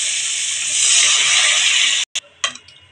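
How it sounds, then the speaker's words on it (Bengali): Water hits a hot pan of fried potatoes in a fish and potato curry, giving a loud, bright sizzling hiss for about two seconds that then cuts off, followed by a few softer splashes. "এখন আমি জল দেব।"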